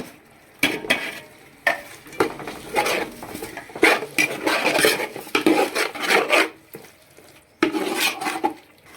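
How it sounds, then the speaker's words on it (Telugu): A spoon mixes yogurt, mint and coriander into a mutton biryani masala in a metal pot, with repeated clanks against the rim between wet scraping strokes, close and loud with no voice. "పెరుగు యాడ్ చేసిన తర్వాత బాగా అన్ని కలిసేటట్టు మిక్స్ చేసుకోవాలి"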